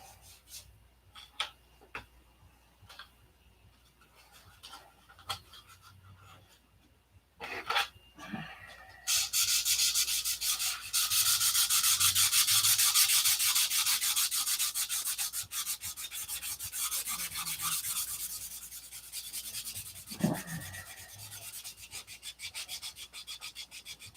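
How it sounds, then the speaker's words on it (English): Sandpaper rubs over a piece being prepared for repainting, first in a few scattered light strokes, then a long, loud, continuous scratching rasp with a short sharp knock near the end. "go ahead and sand the whole thing out and paint the whole thing one more time"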